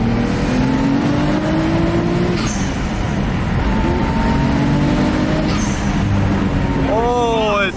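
A rebuilt 400R car drives along with a steady engine drone rising and falling through the gears, loud and continuous, with a brief higher whine near the end.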